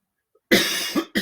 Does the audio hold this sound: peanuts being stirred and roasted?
no